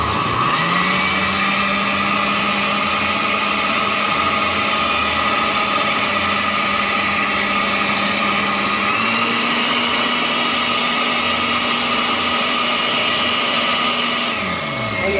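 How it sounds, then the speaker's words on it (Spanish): A blender grinds flan mixture in a steady, loud, continuous whir that shifts up in pitch partway through and winds down at the end, with no talking. "por aquí voy a moler también mi mezcla para mi flan"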